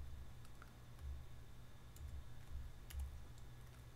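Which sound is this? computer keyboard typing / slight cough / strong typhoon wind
computer keyboard typing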